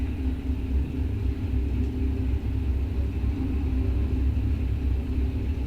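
Drag racing cars at a bracket-series strip, a Mustang among them, give a steady low engine rumble that holds continuously throughout at moderate loudness, with no voices.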